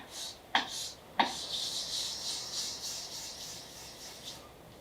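A woodworking chisel is rubbed back and forth on 600-grit sandpaper, giving a steady close-up hissing rasp with two sharp knocks early on.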